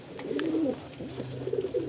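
Pigeons in a loft giving soft, throaty rolling coos in a couple of short bouts, close and clear, with faint background rustle and no talking.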